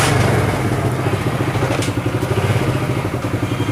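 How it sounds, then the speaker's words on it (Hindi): A motorcycle with a gear-shifting fault runs close by, its engine chugging in a steady rapid pulse with clattering mechanical knocks as it is started and put into gear. "जब बाइक को स्टार्ट करके इसको गियर निकालते हैं हम"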